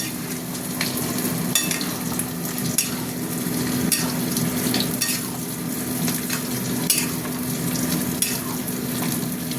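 Boiled bottle gourd cooking in a pan, with a dense, steady sizzle and frequent utensil scrapes and taps throughout, close and without voices.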